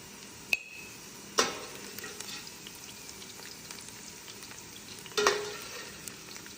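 Onion frying in a pan as it is stirred, with a soft steady sizzle and a few sharp scrapes or clacks of the utensil against the pan. Quiet and close, with no talking.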